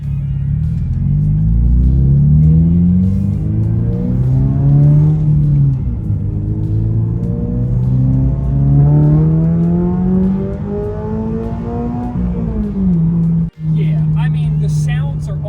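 A 2022-or-later Subaru BRZ or Toyota GR86 titanium exhaust rumbles and drones deep and steady for a long stretch, pitch rising and falling with the engine, loud and close throughout.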